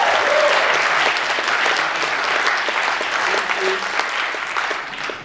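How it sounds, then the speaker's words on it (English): Sustained applause from an audience at a film festival talk-back, a dense, even wash of many clapping hands throughout, with faint crowd murmur beneath. "One more round of applause for him, please."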